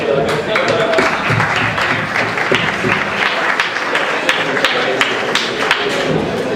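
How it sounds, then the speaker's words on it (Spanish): An audience at a talk on the Higgs boson breaks into sustained applause, dense clapping that fills the room at close range, with voices audible alongside it. "Un aplauso."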